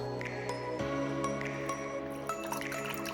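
Water being poured and dripping while coffee is made at home, a steady liquid trickle with small drips and clinks close by, continuous for about three seconds without speech.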